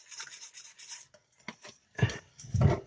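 Condensed milk, water and egg being whipped for French toast fingers: a few short rubbing, scraping whisk strokes in a bowl, close and fairly quiet, with brief pauses and the last strokes heaviest.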